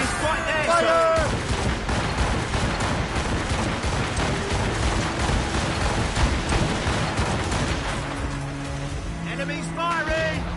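Ship cannons fire in the naval combat of Assassin's Creed Rogue, a steady barrage of booms and crackling blasts under shouted crew commands and engine-like rumble.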